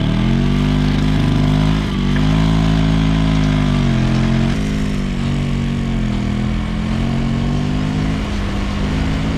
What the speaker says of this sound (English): This little moped is great fun. The engine feels willing and enthusiastic